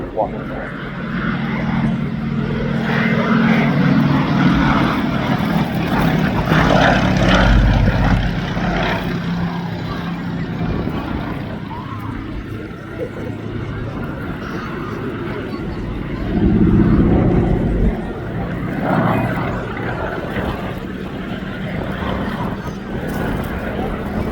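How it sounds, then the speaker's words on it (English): Fairey Swordfish biplane with a Bristol Pegasus radial engine flying at a seaside airshow: a loud, steady propeller-engine drone that swells and eases, heard under continuous commentary and crowd noise. "together with the Bristol Pegasus engine, producing this TSR-2, which first flew in 1934, taken into service in 1936 as the Swordfish Mark I."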